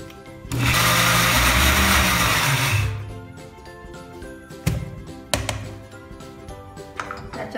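A mixer grinder whirs loudly as it grinds fresh grated coconut, green chillies, ginger and garlic into chutney, running steadily for a few seconds before stopping, followed by faint clinks and taps from the jar.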